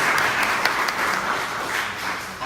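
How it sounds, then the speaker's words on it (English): Steady applause from an audience after a lecture on Russell Kirk, a dense even patter of many hands clapping continuously throughout at moderate level, with no speech over it. "Once more, just a round of applause for Dr."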